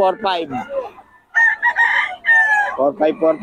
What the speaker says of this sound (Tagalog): Ito na ang mga manok niya, oh.